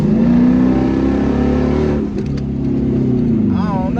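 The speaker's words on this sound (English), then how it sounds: "That was actually a hard ass fucking downshift just now" A Dodge Charger pursuit car with a 5.7L HEMI V8 and an AirAid cold air intake drones steadily under load, then drops its pitch sharply in a hard downshift midway, heard close from inside the cabin with someone talking over it.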